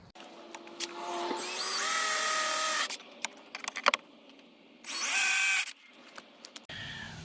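A power drill bores pilot holes in a Sonoma truck, giving two loud, high-pitched whining bursts of a few seconds each, separated by quiet handling clicks and knocks.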